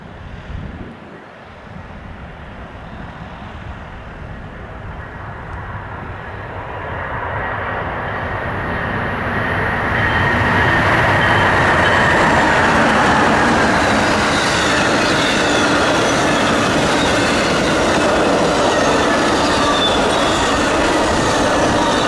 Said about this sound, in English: it gave me my first in-person look at one of Amtrak's very tacky and uninteresting America 250 units